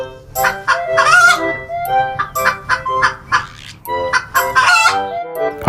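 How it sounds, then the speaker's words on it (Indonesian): Hen loudly cackling after laying an egg, a repeated series of sharp, harsh squawks in uneven bursts, close and dominant with no talk. "suara ribut ayam betina ini bahasa kerennya disebut dengan eksong"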